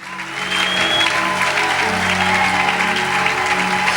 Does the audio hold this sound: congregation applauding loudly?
yes